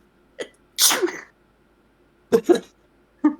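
A sharp sneeze followed by a few short throat-clearing or coughing bursts, close and fairly loud, separated by silence.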